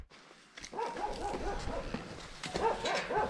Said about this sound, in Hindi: कालू फिर से भौंकने लग गया है